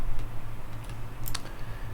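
Soft, rapid clicks of typing on a computer keyboard sit close and fairly quiet over a low background hum.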